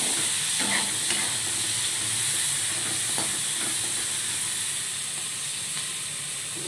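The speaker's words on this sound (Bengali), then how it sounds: "লঙ্কা ভাজাটাকে হাঁটিয়ে দিচ্ছি।" Chilies frying in hot oil in a kadai with salt give a steady, close sizzle, broken now and then by the soft scrape and clink of a spatula stirring them.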